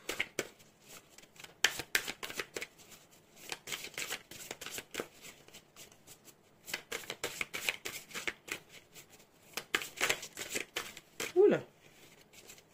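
Tarot cards are shuffled in several quick riffling bursts separated by pauses, crisp and close, and a brief spoken exclamation comes near the end.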